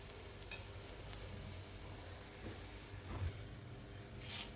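A farali chilla made from rajgira and moraiya flour roasts on a low flame in a pan, giving a soft, steady sizzle with a few faint taps and scrapes as it is pressed.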